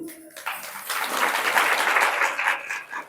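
Audience clapping breaks out at a spiritual class in a village hall and swells into a steady, dense round of applause lasting several seconds before easing off.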